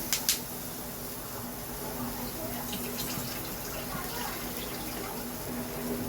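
Water pours into a cooking pot for an egg korma, a steady close splashing stream with a couple of sharp knocks at the start, and a voice speaking alongside.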